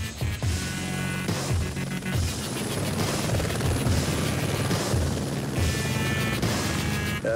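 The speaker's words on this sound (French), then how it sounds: "Philippe Delquier, pompier cadre d'hélicoptère bombardier d'eau, n'a que le temps de rejoindre le pilote dans son appareil" A firefighting water-bomber helicopter in flight on its way to a wildfire near the Étang de Berre, its loud rotor and turbine drone steady and close for the whole stretch, with no talking.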